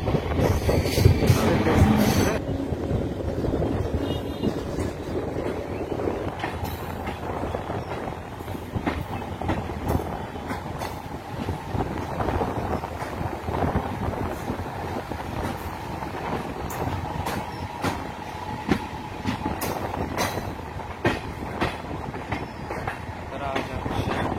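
A passenger train on the Asansol–Purulia line pulls into Adra Junction in Purulia, its wheels rattling and clacking steadily with occasional squeals, heard close and continuous throughout.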